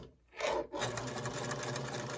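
A sewing machine chain pieces fabric through the presser foot, starting after a brief pause and then running in a fast, steady whirring stitch, close and continuous.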